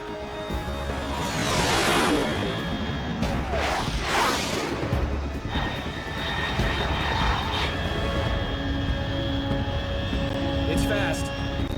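A fast jet aircraft roars overhead in the video game Metal Gear Solid 3, a loud sustained engine rumble with sweeping surges, while a radio voice talks over it.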